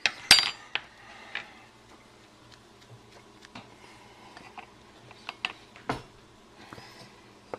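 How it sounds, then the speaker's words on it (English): A metal teaspoon measures out an ingredient for a home economics recipe, giving scattered light clinks and taps against a container amid quiet pauses. "And now for the 2nd teaspoon."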